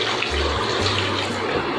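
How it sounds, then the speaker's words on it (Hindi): Half a glass of water poured into a pot of Karachi-style beef biryani with meat, spices and dried plums, a steady continuous splashing pour lasting under two seconds, close and loud with no talk. "1/2 गिलास पानी डाल देंगे"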